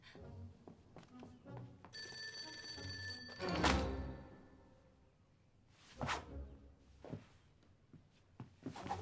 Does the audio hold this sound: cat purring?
no